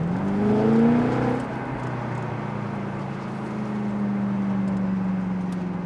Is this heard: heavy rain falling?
no